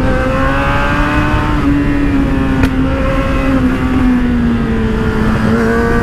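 Kawasaki Z800 motorcycle fitted with a dB killer, its engine held at high revs in a loud, close, continuous drone whose pitch slowly wavers up and down.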